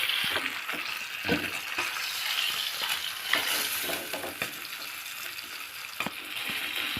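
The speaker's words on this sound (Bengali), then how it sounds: "ইলিশ মাছের মাথাগুলো কিন্তু ভালোভাবে ভাজা হয়ে গেছে এখন আমরা তুলে নিচ্ছি মাথাগুলো" Hilsa fish heads, fried in oil in a kadai, sizzle steadily as they are stirred and lifted out, with scraping clicks and spatula knocks over a continuous frying hiss.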